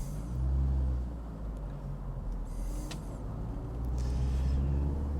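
A 1994 Toyota Camry AWD with a five-speed manual drives along, its engine and road rumble a steady low drone heard from inside the cabin, swelling slightly at the start and again near the end.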